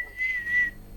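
A young girl whistles a single steady high note lasting about half a second, close and clear over a quiet background during a Fortnite Battle Royale game, with no talk.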